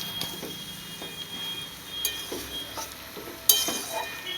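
Vegetables simmer and fry in a kadai in a home kitchen, giving a steady soft sizzle with a few light scrapes and clinks of a stirring utensil, with no talking.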